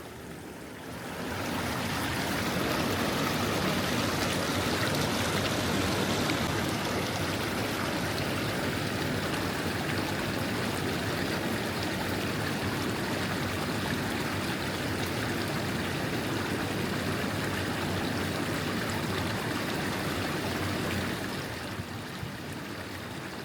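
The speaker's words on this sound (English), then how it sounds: "It ripples against the limestone, the soft breaking of water around a stone, and then suddenly the whisper becomes a roar." River water ripples and rushes over limestone stones in a steady, close, full rushing wash that swells in after a quiet start and holds evenly, with no voices.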